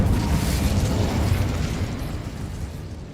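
The Incendio fire spell is cast in Hogwarts Legacy: a loud whooshing burst of flame with a rumbling roar that slowly fades over three seconds, with no voices.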